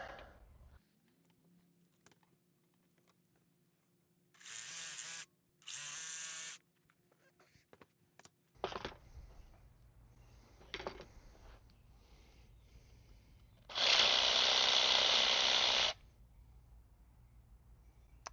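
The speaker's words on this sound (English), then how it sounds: "So we're going to cut that out with the jigsaw." Jigsaw cutting wood for a carved wooden pumpkin, with several loud buzzing bursts of the saw, two short ones early and a longer cut later, separated by quiet handling noises.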